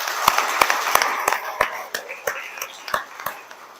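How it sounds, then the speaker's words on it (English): Sparse, distinct handclaps from a small gathering honoring Chris Chumley at a morning community program, sharp individual claps spaced irregularly, thinning out toward the end. "So I think we should all give Chris Chumley a round of applause"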